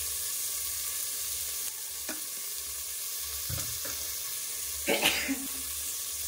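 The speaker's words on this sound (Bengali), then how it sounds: "এবার টমেটো আর কাঁচা লঙ্কা দিয়ে দিচ্ছি।" Tomatoes and green chilies go into a pan of cumin and fry with a steady, hissing sizzle. A few stirring scrapes and a louder spatter burst break through near the end.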